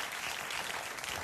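A studio audience at a late-night talk show claps steadily in a dense, even wash of applause, continuous and moderately loud for the whole moment.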